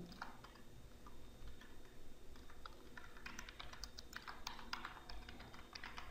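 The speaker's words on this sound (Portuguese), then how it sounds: "Você vai digitar aqui o título do site" A computer keyboard is typed on at a quick, steady pace, producing a faint run of light key clicks in a quiet room.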